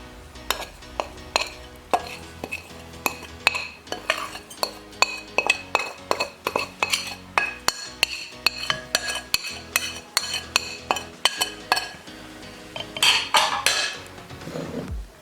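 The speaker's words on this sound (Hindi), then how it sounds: "तमाम चीज़ों को अच्छे से मिक्स कर लेंगे" Metal spoon clinks repeatedly against a bowl while biryani marinade of yogurt, spices and lemon juice for roasted chicken biryani is stirred and mixed, a steady rhythm of close taps and scrapes with no talk.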